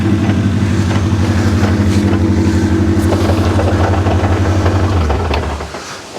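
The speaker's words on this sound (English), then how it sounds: "that'll be a CV joint I can hear rattling" A derby car with a rattling CV joint runs close by, its engine a loud, steady low throb with a clattering rattle over it, winding down and fading near the end.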